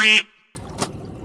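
A short nasal honk like a duck call or horn blares right up close, then after a brief gap the noise of a boat at sea returns with a thump and a rumble.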